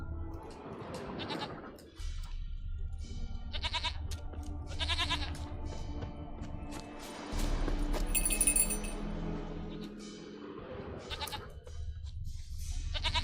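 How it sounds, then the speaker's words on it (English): Goat bleating in The Witcher video game, in the Velen region: several nasal, wavering bleats come and go over a continuous game soundscape with light clinking. "Here, goat."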